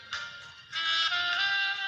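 A Jio phone plays a custom name ringtone song, a bright electronic tune that starts abruptly and rings on steadily at close range.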